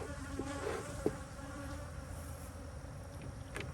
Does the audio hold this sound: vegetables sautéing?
no